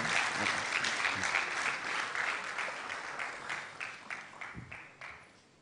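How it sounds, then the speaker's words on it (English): Audience applause for a professor after a mentorship session talk, a dense wash of crowd clapping that holds steady, then thins and fades out toward the end. "A round of applause for him, ladies and gentlemen."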